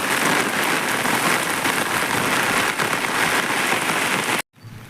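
Heavy rain pours down steadily over a paddy field, a dense, loud, continuous wash of drops on surfaces close by, ending with a sudden cutoff.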